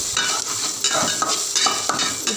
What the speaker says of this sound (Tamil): நல்லா கொஞ்சம் கிளறி விட்டு நல்லா வதக்கிட்டு கொஞ்சம் வதங்கட்டும்